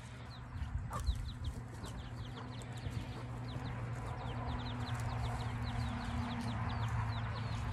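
Hens and young chicks clucking and cheeping outdoors, a busy stream of high chick peeps over low hen clucks, steady and fairly close throughout.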